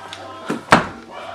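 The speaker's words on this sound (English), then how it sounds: "I don't know why I close the door in case if something comes out" A door is closed during a ghost-hunting walk in Palmdale: a soft knock followed by a single sharp thud of the door shutting, close by, with faint voices around it.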